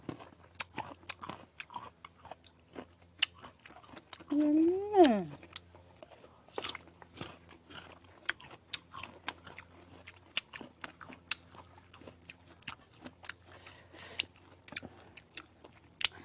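Crisp Kimju guava dipped in chili salt is bitten and chewed close up, giving repeated sharp crunches and wet chewing, with a short spoken interjection partway through.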